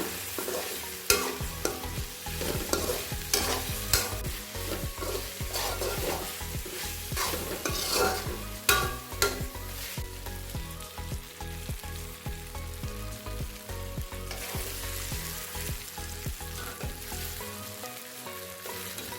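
Boiled chow mein noodles stir-fried in a pan with vinegar, Kolkata street style: a continuous close sizzle with repeated scraping and tossing strokes of the spatula against the pan, and no voices.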